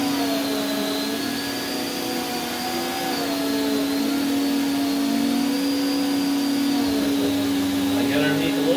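Prolux CTX water vacuum running with its hose, a loud steady motor drone with a strong sustained hum and shifting whine as the nozzle moves, with a person talking over it.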